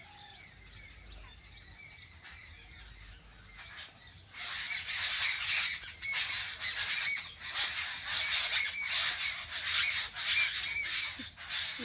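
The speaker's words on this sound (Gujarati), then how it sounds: "કેટલા પક્ષી બોલાય છે આ બેસીને બોલાય બધા" Many birds squawk and chirp together near a window at morning, sparse calls at first, then a dense, loud, continuous chorus of overlapping shrill cries close by.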